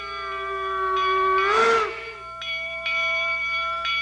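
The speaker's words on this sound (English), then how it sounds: "the bells were quite a unique project because we wanted them to sound right" A steam locomotive bell gives a sustained ringing tone with rich overtones, struck a few times at intervals and left to decay, fairly close and clear with no talking.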